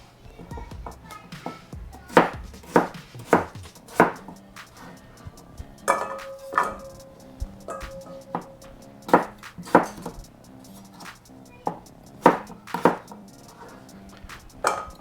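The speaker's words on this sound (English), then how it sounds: "gotta dice up these red potatoes" A knife dicing washed red potatoes on a cutting board for dill potato salad, with close, crisp chops in uneven bursts and a few clinks between them.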